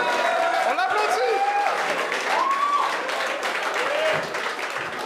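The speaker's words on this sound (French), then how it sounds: "On l'applaudit!" Audience applause and cheering at a comedy talent show taping, a thick continuous clapping roar with whoops and raised voices riding over it, easing slightly toward the end.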